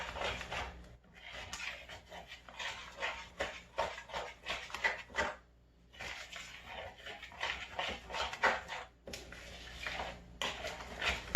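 Keto chocolate chip muffin batter worked by hand in a bowl, steady rubbing and scraping strokes in bursts with brief pauses between them, close and fairly quiet.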